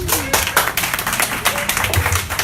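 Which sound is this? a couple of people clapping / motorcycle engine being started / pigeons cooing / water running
a couple of people clapping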